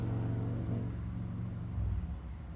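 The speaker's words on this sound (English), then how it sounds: "Oh, that was the car." A car passes by with a low, steady engine rumble that swells slightly and then fades. It is fairly quiet and heard on its own.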